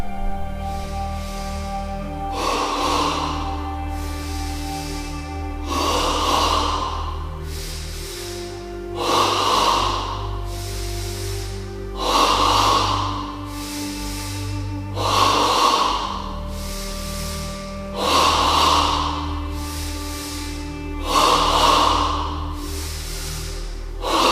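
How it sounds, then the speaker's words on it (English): Yogic double breathing into the abdomen, heard as loud, close, forceful nasal inhale-exhale pairs repeated at a steady rhythm about every three seconds, with a low drone underneath. "Ready now for stage 1 of double breathing, 10 times in the abdomen."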